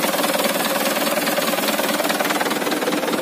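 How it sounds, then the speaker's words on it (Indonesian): A Mitsubishi HDL 136 PS truck engine idles just after start-up, a steady, even rumble with a fine rapid pulse that holds at constant loudness throughout, close up and alone. "Ini kita hidupin. Ya, sangat halus banget mesinnya."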